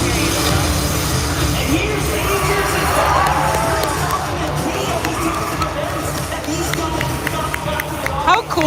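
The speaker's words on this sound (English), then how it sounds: "Well, they got a crowd, I'll tell you that." A large crowd cheers and roars at the FNCS Grand Finals esports event as players make their entrance. The noise is dense and sustained throughout, with a few sharper whoops near the end.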